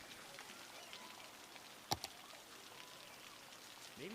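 Light rain pattering in Cities: Skylines, a soft continuous wash of scattered drops, faint and even, with one sharp tick standing out partway through.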